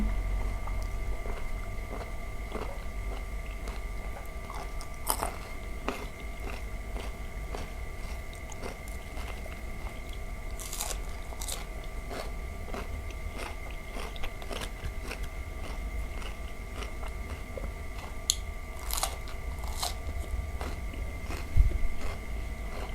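Someone eats giant cockles with a spicy seafood dipping sauce and garlic, making soft, close chewing and occasional crunchy bites over steady background hum for a long stretch, with no speech.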